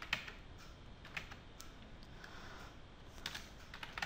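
Typing on a computer keyboard while configuring DHCP on a Cisco router: faint, irregular key clicks in light bursts over a steady background hiss.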